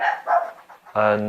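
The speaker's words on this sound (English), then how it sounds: "if you hear my dog barking in the background out there" A pet dog barks outdoors in the background, a short bark or two near the end, after a person talks briefly up close.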